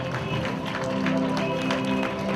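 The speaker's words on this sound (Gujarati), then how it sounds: "તાળીઓના ગડગડાટથી વધાવી લો આમ ચેમ્પિયન્સને" An audience at an annual college programme applauds champions, steady crowd clapping mixed with a murmur of voices and a faint hum from the hall's sound system.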